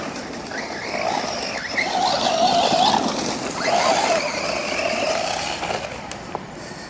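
A 1/10-scale UDIRC Sierra Max solid-axle RC trophy truck on a 3S battery pack driving under gentle throttle, its electric motor whine rising and falling over gritty rolling noise.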